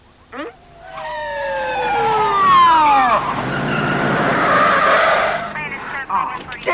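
A police car arrives in a 1996 film scene with a loud siren wailing in falling sweeps and tyres skidding, then a broad roar of engine and road noise, close and continuous.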